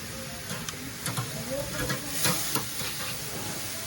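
Steady sizzling hiss of food frying in a pan, with light clinks and stirring scrapes over the crackle.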